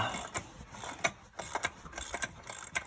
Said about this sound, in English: I'm just gonna use my ratchet here to take that out